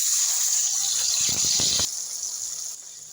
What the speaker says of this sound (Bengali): মশলার বাটি ধোয়া জলটা দিয়ে দিচ্ছি